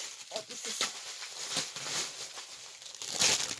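Plastic packet from an unboxing of a toolkit and diamonds crinkles and rustles in irregular bursts, close and fairly quiet, with a louder crackle near the end.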